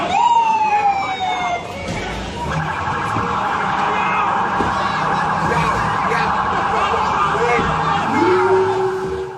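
Wailing emergency sirens from police and ambulance vehicles at a scene, sweeping tones rising and falling continuously and fairly loud, with crowd noise and vehicle sounds around them.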